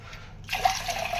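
Water is poured from a glass into a steel pot for ragi porridge, a short bright splashing fill that starts abruptly after a quiet moment, close and clear with no talking.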